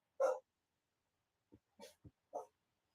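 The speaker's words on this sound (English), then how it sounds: "now the dogs think somebody knocked on the door" Indoor dogs react as if someone knocked at the door, with one short bark and then a few quieter, scattered woofs and huffs over about three seconds in a quiet room.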